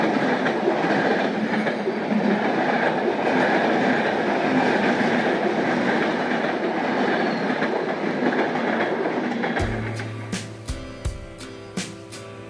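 The Panchagarh Express running on rails between Dhaka and Panchagarh in the monsoon season, a loud steady rumble and roar heard from aboard, shifting near the end to rhythmic clickety-clack wheel beats with a low tonal hum.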